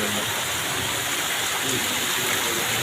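Rain falls over a village in a steady, even hiss that stays at the same level throughout the short stretch, with no pauses or separate drops standing out.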